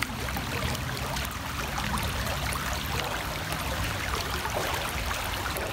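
Water streaming from a Katadyn Pocket hand-pump water filter, a continuous close hiss and trickle of flowing water, steady and fairly loud without pause and without talk.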